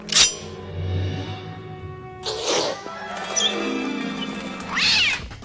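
A cat meows and yowls a few times, loud and close, with a drawn-out cry in the middle and a sharp one at the end.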